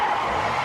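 Car tires skid across the road before a crash, played as a sound effect in an impaired-driving awareness ad: a loud, steady, sustained squeal and scrape of rubber with no voices.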